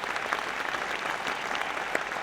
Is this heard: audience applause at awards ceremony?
yes